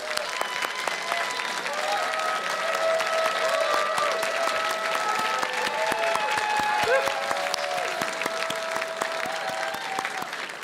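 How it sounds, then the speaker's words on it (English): A crowd at a Pilchuck Glass School auction event claps steadily for the auction committee, a dense, sustained round of applause with scattered voices and tonal sounds threading through it. "please give them a huge round of applause"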